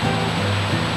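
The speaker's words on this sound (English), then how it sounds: "our trail takes us right over this little creek." A small mountain creek on the John Muir Trail rushes steadily over stones, a continuous close, loud wash of flowing water with no pauses.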